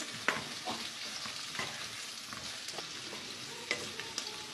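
Ginger and garlic frying in a pan for a dhaba-style butter chicken, a soft steady sizzle broken by several sharp scrapes and clinks of stirring, no voices.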